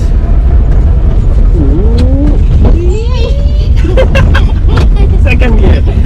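A 1991 Premier Padmini petrol car pulls away in first gear, its engine droning loudly and steadily from inside the cabin while people talk over it.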